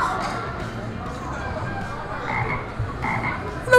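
A frog croaks in the video game Dayshift at Freddy's, a run of rough, raspy croaks that repeat steadily at moderate loudness over a busy background.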